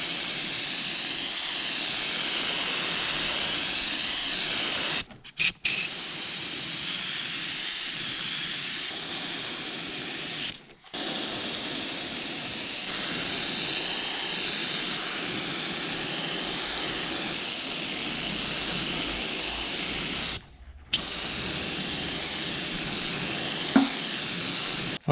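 Pearl copper paint sprays steadily from an airbrush onto a 7.5-inch musky crankbait lure, a loud, close, continuous hiss broken by three brief cutoffs when the spray stops and restarts.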